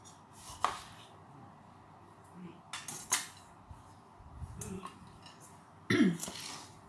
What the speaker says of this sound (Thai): ขอหั่นมะนาวแป๊บนิดนึงนะ กินเองหั่นสดดีกว่าค่ะ